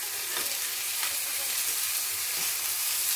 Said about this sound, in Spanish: vamos a sofreírlo un poquito, que se pongan doraicos bien